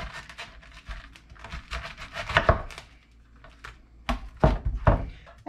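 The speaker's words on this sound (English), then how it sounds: "And then I'm just going to cut my cabbage in half." A knife chops through a cabbage on a cutting board: two loud, close impacts stand out among a series of lighter knocks and cuts, with no talking.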